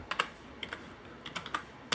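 Fingers tap on a cheap, poor-quality computer keyboard, giving a run of quiet, close, irregular clicks in small bursts with brief pauses in between.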